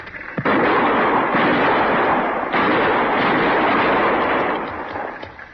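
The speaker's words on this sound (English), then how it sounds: "Use your rifle, Chester." Rifle fire in an old-time Western radio drama, a dense, loud barrage of rapid shots and booming bursts running almost continuously with no talk.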